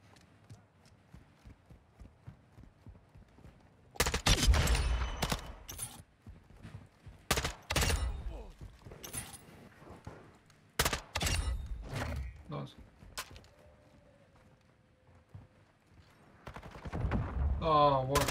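Bursts of rapid SMG gunfire in an online shooter game crackle in several sharp volleys, loud and close, separated by quieter gaps with soft ambient game sounds and a player talking.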